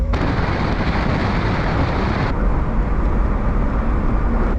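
Honda Beat kei car with individual throttle bodies, its small engine producing a loud, steady, rumbling drone with a raspy intake edge that holds continuously throughout, close and alone with no talking.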